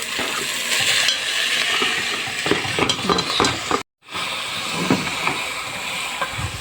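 Freekeh fries in a pan with onion, ghee and oil, giving a steady sizzle broken by scraping stirs and a brief drop to silence partway through.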